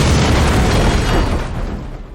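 Explosion blasting open a bank safe in an action film: a loud, dense boom sustained across the whole moment, then slowly thinning as it decays.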